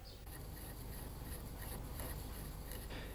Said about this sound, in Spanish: lo único que nos quedaría es lijar un poco el corte